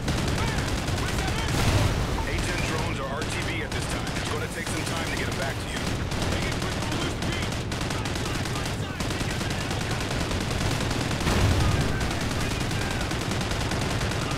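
Dense, sustained gunfire from the Call of Duty: Ghosts campaign mission Homecoming, a loud, continuous wall of rapid shots and battle noise with swells around two and eleven seconds.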